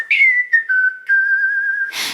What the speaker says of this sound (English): Whistle sound effect!